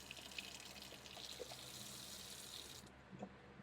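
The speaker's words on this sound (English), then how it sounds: "We have water." Water runs steadily from a tap on an off-grid property once its transfer pump has been fixed, a continuous close hiss and splash that cuts off near the end, with no talking.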